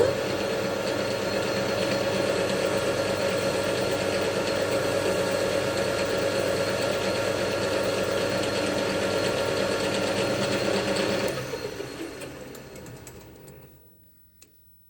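A metal lathe cuts a chamfer on a duplicated spring preload bolt, a loud, steady whirring machine drone with a faint cutting rasp, then the motor winds down and fades to near silence.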